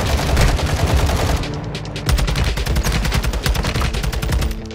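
Dense, loud automatic gunfire rattles in Warzone 2, with a continuous burst early on, a brief lull, then rapid repeated shots pounding close up, without talk.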